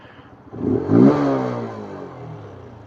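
A QJ SRK 125R motorcycle engine revs up and roars with a rising, then falling pitch, loud and close, tailing off into a lower steady drone.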